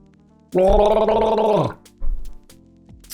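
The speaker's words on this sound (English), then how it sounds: "Gonna rinse that taste out of my mouth just real quick." Someone rinses and gargles, making a loud bubbling gargle for about a second, then a short spit or swish follows, close to the microphone in a quiet room.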